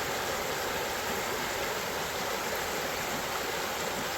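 Flooded Back Creek rushes past close by in a loud, unbroken roar of fast water over the banks, steady and alone with no talking.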